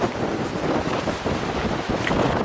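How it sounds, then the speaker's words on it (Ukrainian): Strong wind buffets the microphone in a steady, roaring rush with no pauses. "А в нас тут такий вітер."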